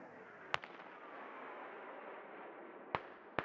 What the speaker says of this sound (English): My guys are calling out good hits with those mortars.